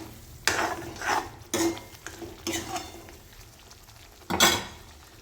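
Masala frying in oil in a pan is stirred in four distinct scraping bursts, with a quieter sizzle between strokes and occasional light utensil clinks, close and without speech.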